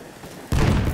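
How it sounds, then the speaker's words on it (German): Machine gun fire erupts abruptly halfway through in a World War I Battlefield night battle, a loud dense crackle of shots following a quieter rumbling lead-in. "Aufpassen, Maschinengewehr!"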